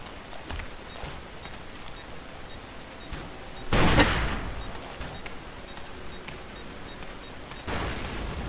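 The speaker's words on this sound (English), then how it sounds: "I can't see where the explosions are!" Explosions and gunfire in the blocky shooter game Ace of Spades, scattered sharp shots over a low background with two heavy booming blasts, one midway and one near the end, loud and close.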